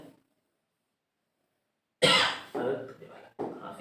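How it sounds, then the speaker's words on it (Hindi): A person coughs hard after a short silence, two or three loud close bursts in quick succession, rough and throaty. "केला खाने से खांसी हो गया हमको"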